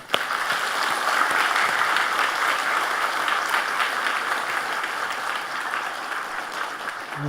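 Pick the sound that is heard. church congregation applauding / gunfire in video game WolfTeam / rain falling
church congregation applauding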